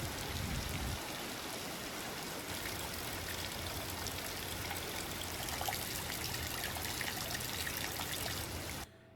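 Added rain sound effect laid over light drizzle footage, a dense steady hiss of falling rain with soft trickling, fairly faint and constant before cutting off abruptly at the end.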